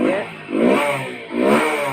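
A Hero HF Deluxe motorcycle engine is revved at the air filter in three quick, loud throttle blips that rise and fall in a steady rhythm, close up and without talk.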